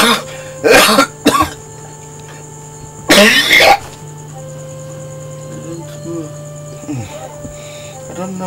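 Two loud bursts of harsh coughing close to the microphone, separated by a pause, followed by quiet speech over a steady electrical hum.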